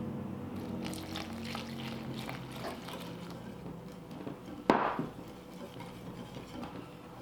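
Warm water is poured into a bowl of chickpea flour mix, giving a soft, quiet trickle and splash. A sharp clink of a utensil or bowl cuts in partway through.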